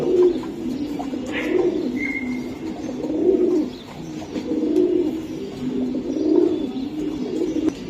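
High-flying Giribaj racing pigeons coo in a repeated rolling pattern, each low coo recurring about every second and a half, with a brief high chirp early on and no talk.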